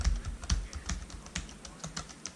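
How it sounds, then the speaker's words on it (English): Typing on a Lenovo T61 ThinkPad laptop keyboard, a brisk, irregular run of soft clicking keystrokes recorded close up, with no talk. "we go over here and just start typing things"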